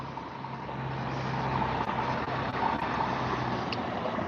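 A double-decker tour bus rolls past on a city street, its engine a steady low rumble that builds gradually and stays loud as it goes by, with brief clicks near the middle.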